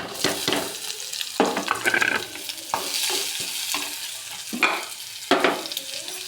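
Onion added to ginger and garlic already browned in hot oil, frying with a steady sizzle while a spoon stirs it, scraping strokes standing out at irregular intervals, close and fairly loud with no talk.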